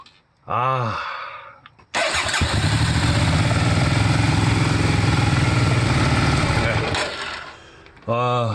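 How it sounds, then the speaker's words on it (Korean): Hyosung Mirage 650 motorcycle idling at slightly high RPM with a sluggish ICS valve motor: a loud, steady engine drone lasting about five seconds, with a person speaking briefly before and after. "지금 아이들링이 조금 약간 RPM이 높긴 한데 요 정도면 버틸만 할 수 있을 정도의 RPM이고요."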